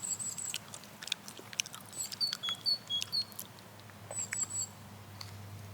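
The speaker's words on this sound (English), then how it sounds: "This bird came chirping" Small bird chirps, short and high-pitched, come in scattered bursts over a faint low hum, quiet and somewhat distant.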